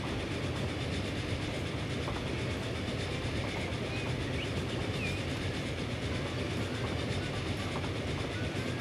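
Train rolling steadily along rails in the Transport Fever game, on a lakeside route near a viaduct, a continuous broadband rumble with faint clickety-clack, constant in level throughout with no talk.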